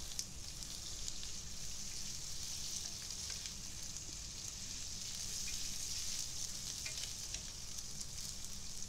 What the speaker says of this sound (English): Add pork cubes. Stir fry until they turn white.